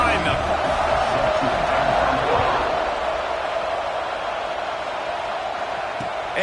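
Steady wash of stadium crowd noise from a football video game as the kickoff approaches, a loud continuous roar holding level throughout with no distinct peaks.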